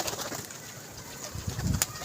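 A pigeon held in the hand at a pigeon club gives a soft, low coo lasting about half a second, close and moderately loud, with quiet handling noise around it.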